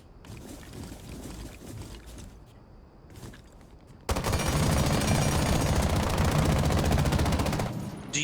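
Automatic gunfire from Osa's gun in Rainbow Six Siege, a sustained rapid burst lasting several seconds after quieter game ambience and scattered clicks, loud and close with no talk.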